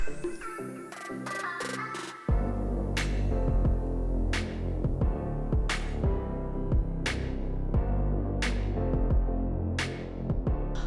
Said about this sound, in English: my Cricut is done cutting